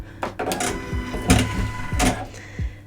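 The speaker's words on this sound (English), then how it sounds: "this button here is our automatic needle threader, so we will press this and then let the machine do its work" Automatic needle threader on a Pfaff Creative Icon sewing machine working through its cycle, a run of short mechanical clicks and whirring motor bursts spread across about three seconds, close and fairly loud with no talking.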